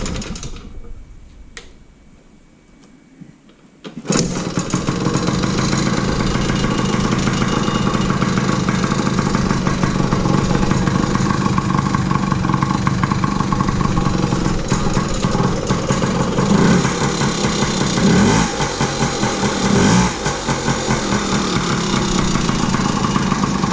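A 2000 Yamaha PW50 dirt bike's small engine starts after a few seconds of quiet handling noises, then idles loudly and steadily with a rapid buzzing putter, the revs rising slightly toward the end.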